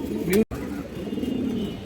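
Domestic pigeons, high-flying breeds, coo in low rolling phrases close by, with a short gap of silence partway through and a faint voice in the background.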